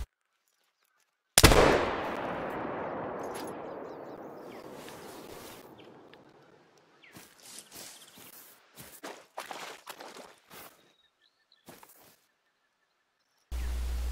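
A muzzleloader fires once in a whitetail hunting video game: a single loud blast with a long echoing decay, followed by faint scattered rustles and footsteps, then a sudden burst of noise at the end.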